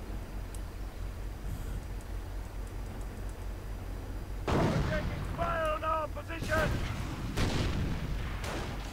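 Artillery barrage from rocket launchers in a real-time strategy war game, a steady rumble that swells into louder repeated blasts and booms partway through, with a commentator talking over it.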